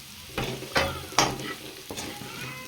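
Mutton fry spiced with coconut and coriander powder sizzles steadily in a pan, close at hand, while a spoon scrapes and stirs through it in four distinct strokes.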